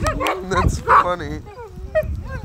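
Dogs give short yips and whimpering barks up close, mixed with a person's voice speaking over them.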